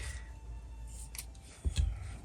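Scissors snip through leftover fabric scraps in a quiet room, giving a few soft, crisp cuts with a firmer double snip near the end.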